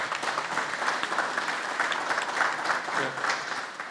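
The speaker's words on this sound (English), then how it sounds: "So let's give them a round of applause." Graduation ceremony audience gives a round of applause for program participants, dense continuous clapping from a crowd in a hall, fairly loud and steady, with a faint voice surfacing briefly near the end.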